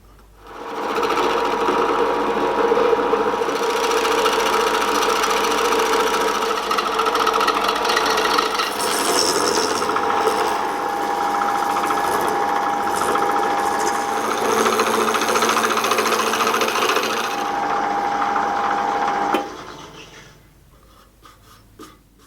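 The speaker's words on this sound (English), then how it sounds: "take it over to the lathe and I'll turn it down to the size that I want and the shape that I want" A wood lathe spins a hot-glued wooden fridge magnet blank, a steady loud whine with a faint ringing tone as the tool cuts it to size and shape, running continuously before winding down near the end.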